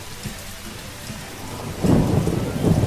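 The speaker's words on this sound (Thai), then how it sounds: "ฝนตก ฝนตก ฝนตก" Rain and thunder in a video game: a steady hiss of rainfall swells into a louder, rumbling downpour with low thunder in the second half, with no voices.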